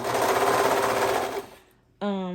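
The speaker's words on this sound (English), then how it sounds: "with all that thickness, I gotta sometimes give my serger a little push" A serger pushes through a thick layer of fabric in a loud, fast rattling whir that slows and stops briefly. It then starts up again with a rising hum.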